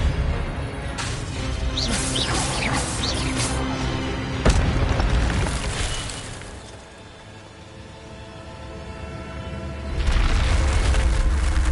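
An Expelliarmus disarming spell cast in the Hogwarts Legacy video game: a sharp burst lands midway through busy game music and ambience, followed by a rumbling boom that fades and swells again.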